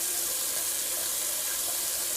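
Cold water runs steadily from a tap into a sink for a shave rinse, a constant close hiss and splash with no voices.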